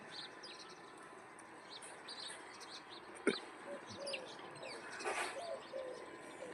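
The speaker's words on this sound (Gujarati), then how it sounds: "તો બધું ચકલા બધા છે ને આવી ગયા છે ઉઠી ગયા બધા" Small birds chirp and tweet in the early morning outdoors, scattered short calls from several birds at moderate distance, fairly faint, with a soft cooing note and a few sharper chirps over quiet ambience.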